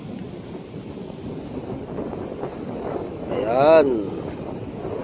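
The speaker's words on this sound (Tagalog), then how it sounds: "Palakas ng hangin." Strong seaside wind buffets the microphone in low, rumbling gusts that swell near the end, while a person speaks briefly over it.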